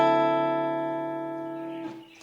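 A C dominant 9 chord played once on keyboard, a single sustained voicing that rings and slowly decays over about two seconds, with a faint click near the end and no voices.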